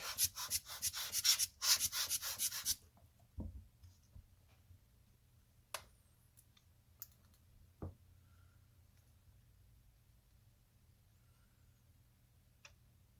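Rough cutting around a traced shape while modding a Casio Rangeman GW-9400 watch, a close rapid scratchy rasping for a few seconds, then quiet with a few sparse faint taps and clicks.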